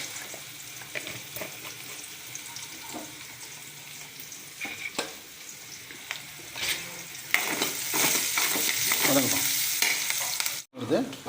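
Sautéing in a pan with salt added: a steady sizzle runs beneath repeated scraping strokes of a spoon stirring the contents, growing busier and louder toward the end, with no talking.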